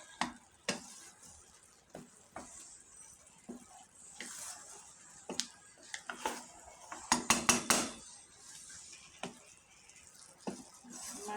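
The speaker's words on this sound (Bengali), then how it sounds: "মাংসগুলো দিয়ে ভালোভাবে নেড়ে চেড়ে নিলাম।" Meat being stirred into biryani in a pot, with scattered scrapes and clinks of a utensil against metal and a brief cluster of sharper clatters midway, close and moderately loud with no talking.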